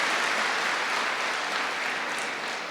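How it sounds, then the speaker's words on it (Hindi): A crowd of listeners at a spiritual talk claps hands in a dense, steady burst of applause, loud and unbroken, slowly fading slightly, with no voices over it. "जो एकदम हाथ उठाते उनके लिए ताली तो बजाओ"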